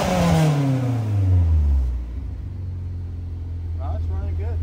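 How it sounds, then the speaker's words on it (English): A supercharged Honda S2000 engine revs up hard, its pitch sweeping down as it falls back to a steady idle rumble, loud and close, with a voice talking briefly near the end. "Give us some revs."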